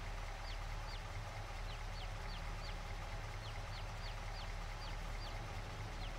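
Chicks peep in a Farming Simulator 22 chicken coop, a dozen or so short, high, evenly spaced chirps over a steady low hum, faint and without voices.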